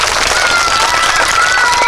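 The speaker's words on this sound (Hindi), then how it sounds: "इस बच्चे के लिए ताली बजाइए आप सभी" Loud, steady clapping from a group of children at a school, a thick wash of hand claps filling the brief stretch without pause.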